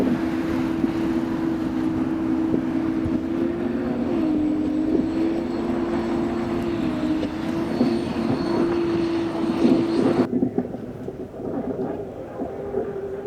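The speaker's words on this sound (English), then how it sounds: "Great looking hydroplane." U-96 hydroplane racing boat roaring past at Guntersville Hydrofest, a steady loud engine drone under commentary that cuts off sharply near the end.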